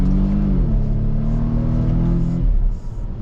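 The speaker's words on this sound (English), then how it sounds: "Doesn't really sound terrible for a 4-cylinder engine." A 2020 Volvo XC60 T6 Inscription's four-cylinder engine idles with a steady, smooth low hum, its pitch dipping slightly partway through, heard alone without talk.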